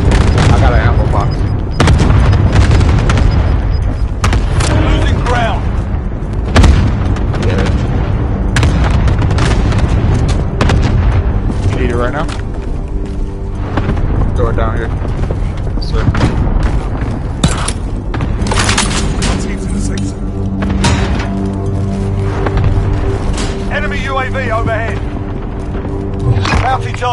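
Cluster strike explosions boom repeatedly in Call of Duty Warzone, loud deep blasts landing in quick succession amid dense game noise, with voices talking over the barrage.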